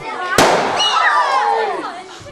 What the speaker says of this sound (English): Students designed an egg bomb suit that would protect it from the liquid nitrogen blast